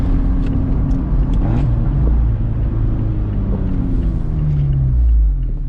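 An Abarth 124 Spider accelerates at half throttle, its engine a deep, steady rumbling drone heard from inside the car, rising slightly toward the end, with no talking.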